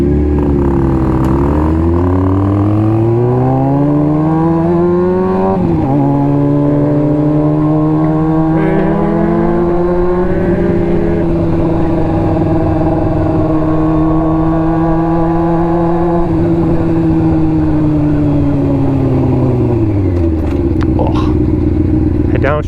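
Street car revving hard and accelerating, its engine note climbing and dropping through several downshifts over a steady, loud drone, with voices now and then.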